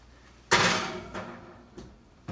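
An oven door opens to put a tray of soft pretzels in, heard as one quiet clunk with a short rattle, then two fainter knocks, close and with no talk.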